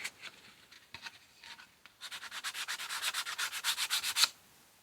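Fine-grit sandpaper rubs back and forth on a stained wooden surface, a few light scuffs building into a quick, steady run of close, rhythmic rasping strokes that stop abruptly.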